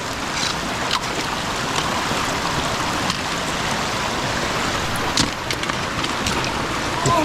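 Continuous broadband rushing of a river flowing below a mountain in the Lake District near the Langdale Pikes, steady and close, with a few faint knocks and no talk.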